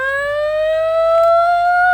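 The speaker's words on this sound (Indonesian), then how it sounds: "Nyala sirinenya." A loud, steady wailing fire truck siren holds one rising tone throughout, close and unbroken, with no voices.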